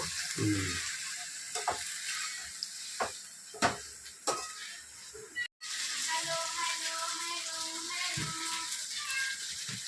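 Chicken sizzling in oil in a pan while being cooked for pulao, a steady frying hiss with occasional sharp clinks and scrapes of stirring, fairly close, no talk over it.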